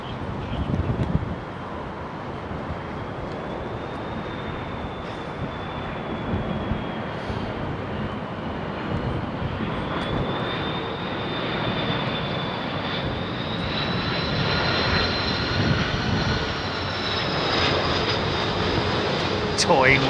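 Airliner arriving on runway 27R at London Heathrow, a loud, broad engine roar with a steady rising whine as the throttles shift, heard from nearby outdoors for the whole stretch.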